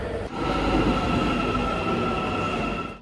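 An Istanbul metro train runs close by, a loud sustained rumble with a steady high-pitched whine and squeal on top that rises in over the first moment and fades slightly at the end.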